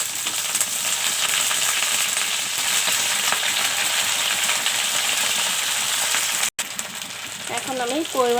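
White data shak greens go into a pan of browned onions and fry with a loud, continuous sizzle and stirring scrape, a brief cut near the end before a voice speaks over the frying.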